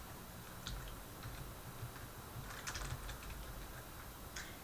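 Computer keyboard typing while a server path is entered into an Explorer address bar, heard as a few faint scattered keystroke clusters over a steady background hiss, with no talk.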